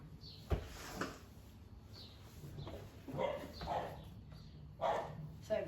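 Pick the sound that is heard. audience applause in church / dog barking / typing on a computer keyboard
dog barking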